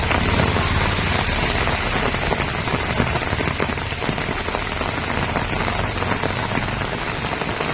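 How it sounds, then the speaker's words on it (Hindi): Heavy rain pours onto a city street near King Koti and Sher Gate, making a dense, loud, continuous hiss of drops spattering on the ground, with no voices heard. "देख सकते हैं माशाल्लाह बेहतरीन बारिश हो रही"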